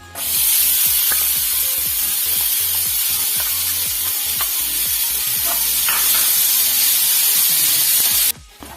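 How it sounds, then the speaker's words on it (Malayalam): Pineapple and sugar sautéing in a pan for pudding, a loud continuous close sizzle with scattered scraping stirs, cutting off abruptly near the end, no voices. "ഈ പൈനാപ്പിളിന്റെ വെള്ളമെല്ലാം വറ്റി ഈ പഞ്ചസാര അലിഞ്ഞ് ഒരു നൂൽ പരുവാവുന്നതുവരെ നമുക്കിതൊന്ന് വഴറ്റി കൊടുക്കാം"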